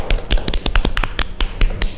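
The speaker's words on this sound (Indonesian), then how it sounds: "tepuk tangan dulu" A crowd at a school student-organization event claps hands together, a dense, steady, loud patter of close applause that carries on without a break.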